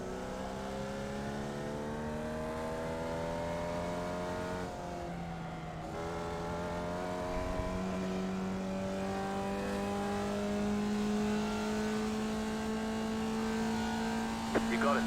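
A Formula Vee race car engine in iRacing at Charlotte Motor Speedway drones steadily and close, its pitch climbing gradually through the gears with a brief dip midway.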